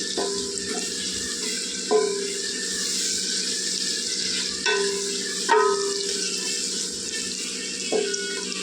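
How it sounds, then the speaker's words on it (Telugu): Onions fry in a pan during Sunday home cooking: a steady, close sizzle with occasional clinks and scrapes from stirring. "ఈ ఉల్లిపాయలు అయితే బాగా వేగాలండి"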